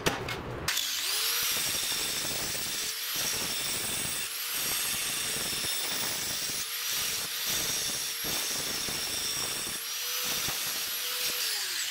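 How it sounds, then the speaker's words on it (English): Steel welds on a homemade boat-tail speedster's brake mechanism being smoothed down with a hand file, giving a continuous close rasping scrape in repeated strokes with brief pauses between passes. "now that I can bring out the files, I can smooth down all the welds"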